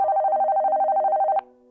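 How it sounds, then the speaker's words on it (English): Telephone ringing in an apartment, a steady electronic trill pulsing rapidly for over a second at moderate loudness, then cutting off abruptly with a faint low hum remaining. "the phone began to ring."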